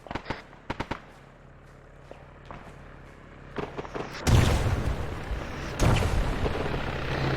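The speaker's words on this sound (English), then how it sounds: "Those rockets are on us." Rocket strike explosions in a video game arrive as scattered sharp cracks and then two big loud booms with rumbling tails, crackling debris between them, and no voices.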